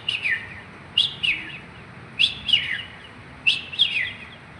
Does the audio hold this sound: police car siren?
no